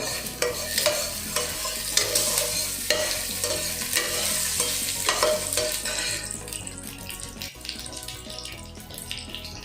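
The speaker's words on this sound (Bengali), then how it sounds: "একটু নেড়ে দেবো।" Ridge gourd and potato posto with nigella seeds fries in a pan while a spatula stirs it, giving repeated scraping strokes over a steady close sizzle that quietens toward the end.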